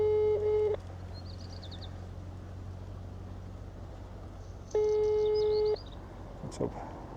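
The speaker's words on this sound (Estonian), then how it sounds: "Kutsub." A phone ringback tone plays over speakerphone: two ringing bursts, each about a second long, separated by a pause of roughly four seconds, with faint bird chirps in the background.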